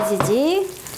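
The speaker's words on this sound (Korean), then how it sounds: "이제 지지직 소리가 나네요." Food sizzles loudly in a hot pan, a crackling hiss with a brief squeaky, gliding whine over it.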